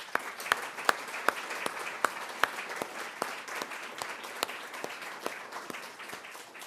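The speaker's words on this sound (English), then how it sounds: "So please join me in a very appropriate final round of congratulations and applause for our honorees, Professor Yehoshua Perl and Professor Tara" Audience applause for research prize honorees at a university ceremony, a moderately quiet, even clapping from a crowd with a few sharper individual claps standing out near the microphone.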